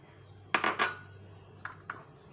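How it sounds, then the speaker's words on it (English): Banana and melon pieces are mixed in a bowl for fruit chaat, giving a few quick utensil clinks and knocks against the dish with quiet pauses between. "Now here I have taken this bowl and now I will mix all the ingredients"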